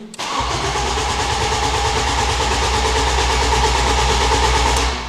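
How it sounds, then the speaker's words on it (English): A family car's engine cranks steadily on the starter, a fast rhythmic churning pulse that runs loud and unbroken for about five seconds and then cuts off, with no voices over it. "It cranks."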